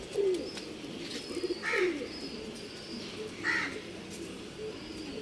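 Pigeons for sale in Bangalore, a soft low cooing with a couple of higher chirps scattered over a few seconds, faint against a quiet background hum; no speech.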